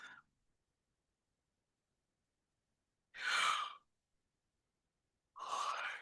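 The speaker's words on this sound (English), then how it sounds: "See me yawning again." A person yawning during a relaxation and breathing exercise, two long breathy exhalations separated by quiet, close and soft, with a faint breath at the start.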